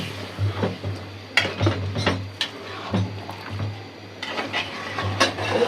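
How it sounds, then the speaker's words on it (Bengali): Water poured into a pot of kosha mangsho, mutton braised until the oil separates, with clinks of a pot and spoon and a steady low hum beneath, the pour hissing more fully toward the end. "এখন জল দিয়ে দিই"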